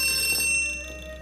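A telephone rings in the video game Ad Infinitum, a steady electronic bell tone with bright overtones that holds for over a second and fades slightly toward the end, heard alone.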